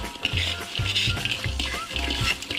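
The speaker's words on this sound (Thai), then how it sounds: "แล้วก็ผัดคลุกเคล้าให้เข้ากันครับ" Crispy chicken skin chili paste with fried kaffir lime leaves is stir-fried in a pan, giving a close, steady sizzle broken by rhythmic scraping strokes of the spatula roughly every half second.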